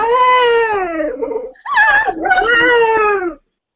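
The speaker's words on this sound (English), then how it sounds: "Your dog's like the cutest thing ever. Like it says I love you." A dog gives a drawn-out, sing-song howling whine in two rising and falling phrases, like a voice mouthing "I love you". It is close and loud, with a short break between the phrases.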